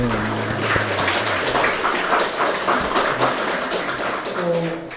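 An audience at a poetry lecture applauds former university presidents as they stand, a thick roll of clapping from a packed hall that stays strong throughout, with faint voices and a brief low tone mixed in.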